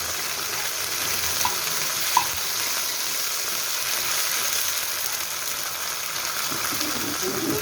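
Sardines and a lightly salted egg fry in a pan, giving a loud, steady close-up sizzle with a couple of faint utensil clicks.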